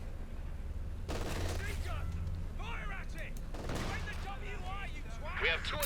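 Tank cannon fire in a Company of Heroes 2 real-time strategy match: sharp bursts of shots, with a prominent burst near the start and another partway through, under steady battle noise while a commentator talks throughout.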